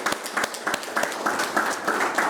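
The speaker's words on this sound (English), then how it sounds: "Give me a round of applause" A crowd at a fireside chat breaks into applause, dense clapping with a few sharp, distinct claps standing out early, sustained and fairly close for the whole stretch.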